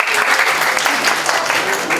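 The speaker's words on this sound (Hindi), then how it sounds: "महाराजा अग्रसेन, तालियां बजा सकते हो।" Audience at a data analysis workshop clapping steadily and loudly for two seconds, a dense continuous burst of applause filling the room.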